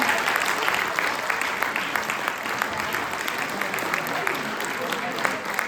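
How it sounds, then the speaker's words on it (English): Sustained audience applause at a San Francisco District 2 Board of Supervisors candidate forum, a dense steady wash of many hands clapping at even loudness throughout. "give it a round of applause there for the lightning round."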